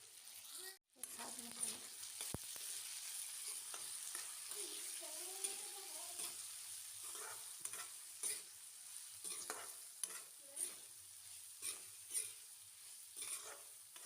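Chopped ginger, garlic and chillies fry in oil for a chilli pickle, with soft continuous sizzling and intermittent stirring scrapes in a pan, fairly quiet and close.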